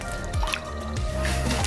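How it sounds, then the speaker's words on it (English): Water splashing and squishing as salt is washed off a griddle, a short close run of wet rubbing and dripping with low sloshing underneath. "so I'm gonna go ahead and wash that salt off"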